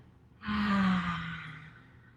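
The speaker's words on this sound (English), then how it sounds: "Taking 3 lion's breaths" A single forceful yoga lion's breath exhale, a loud breathy rush from close by that starts abruptly and fades out over about a second and a half.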